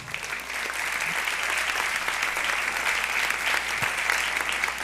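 A church congregation applauds during a celebration worship service. The clapping is steady and sustained, with a few low thumps breaking through.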